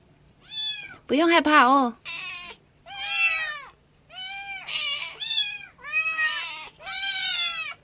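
A caged kitten calling for its mother meows repeatedly, loud, high and plaintive, each cry separated by short pauses, with someone speaking softly in between.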